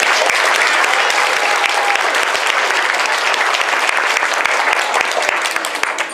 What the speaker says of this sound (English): And let's give those students a round of applause.